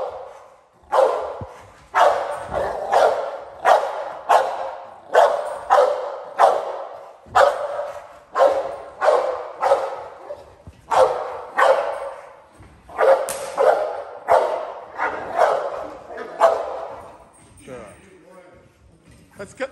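A Cane Corso barks repeatedly in loud, close bursts during bite work training on a table, with sharp rhythmic barks continuing for many seconds and tapering near the end, while a decoy moves around it.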